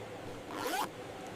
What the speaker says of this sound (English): Premium metal zippers are installed with precision.